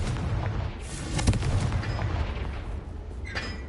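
A Confringo blasting spell goes off in the Hogwarts Legacy video game as a sharp explosive crack around the middle of the clip, with fainter impacts over a rumbling game background.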